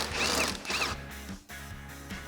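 A 10mm socket ratchet clicks away at a front headlight bolt on a 2014-2015 Chevrolet Silverado 1500, giving two quick bursts of rapid ratcheting with a dull knock and quieter handling between them.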